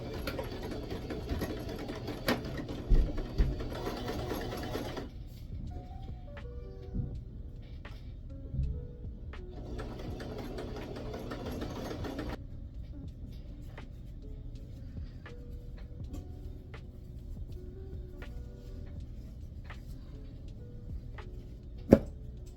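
Sewing machine stitching the edging of crocheted yarn-scrap pieces together, a steady mechanical whirr running in bursts with pauses between runs, close and fairly quiet, with no talking.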